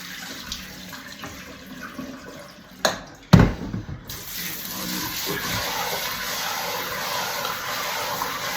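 Running tap water rinses raw rice for the first wash before steaming it Filipino-style, a steady splashing flow with a few sharp clunks of the pot partway through.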